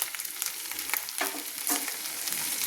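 Ground turmeric, chilli powder and cumin fry in hot oil in a pan, giving a steady close sizzle with a few short stirring scrapes over a brief moment.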